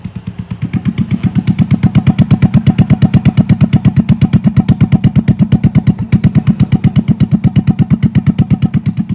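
A 110cc motorcycle engine with a new exhaust pipe runs loud and close with a rapid, even thumping exhaust pulse, steady throughout.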